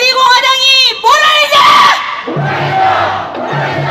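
A crowd at a Taegukgi political rally at Seoul Station shouts a slogan in unison, loud and close. Strong voiced chanting bursts give way to rougher, scattered shouts and cheers.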